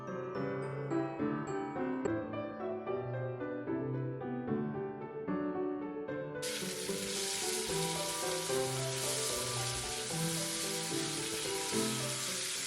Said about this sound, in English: We'll fry the onions until translucent.